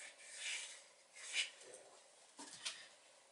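A hand saw trims the wooden keel of a small toy Barfleur boat, giving a few faint, short rasping strokes with quiet gaps between them.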